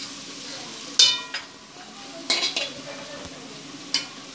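A spoon stirs green chillies and vegetables for a chicken vegetable roll in a hot cooking pan, making a few scattered metallic scrapes and clinks over a soft, steady sizzle, with no talking.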